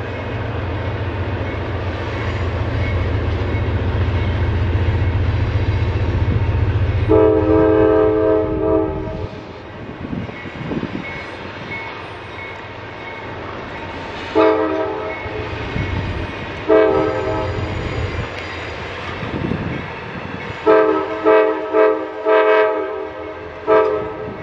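A Norfolk Southern freight train near the Gallitzin Tunnels, Pennsylvania, rumbles past with helper locomotives on the rear, its loud horn sounding in several repeated blasts over the steady rolling of wagons.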